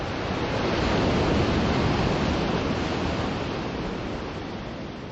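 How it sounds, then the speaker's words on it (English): Broad, steady wind added in sound design, a dense rushing roar that swells slightly then eases, loud and constant with no voices. "Now we're going to just go and add in the sound of the wind"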